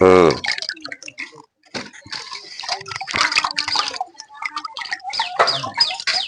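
Spiny eel fish is washed by hand with salt and water, giving close splashing, sloshing and dripping in irregular bursts, with a brief vocal sound at the start.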